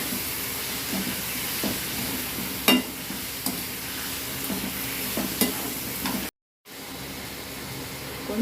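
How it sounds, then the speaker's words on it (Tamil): Tomato chutney with salt sautés in a pan, a steady sizzle broken by scattered utensil clicks and scrapes, with a brief silent gap near the end before the frying resumes. "சேர்த்துட்டு நல்லா வதங்கட்டும்."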